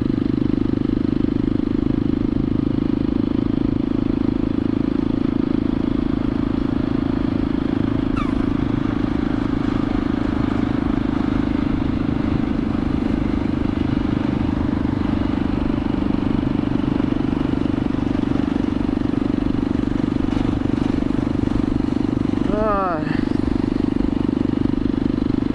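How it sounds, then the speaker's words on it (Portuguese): A steady, droning motorcycle engine runs at close range throughout a riders' meetup in João Pessoa, Brazil, with a brief rising rev near the end and faint clatter in the background. "Mandar o pessoal aqui das motos passar, vocês têm uma noção."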